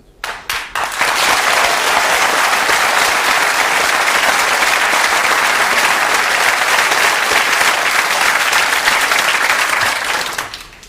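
Studio audience at a televised political debate breaking into loud, dense applause that holds steady for about ten seconds before tapering off.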